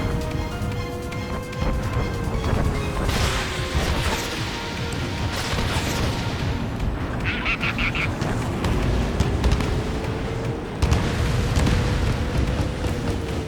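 Explosion of a bandit aircraft shot down by a missile in the air-combat game Ace Combat 7, a crash-like boom rising from a dense, continuous roar of jet engines and battle noise, with a radio voice briefly speaking.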